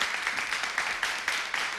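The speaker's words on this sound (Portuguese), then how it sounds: "peço também que não me interrompam com palmas por tudo e por nada" Audience applause at a Portuguese television comedy show, a steady wash of many hands clapping at moderate loudness, with faint rhythmic swells and no voices over it.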